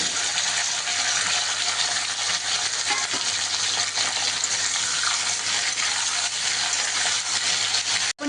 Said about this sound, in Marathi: आता तेलामध्ये आपण हे थोडं फ्राय करून घेऊया सगळं साहित्य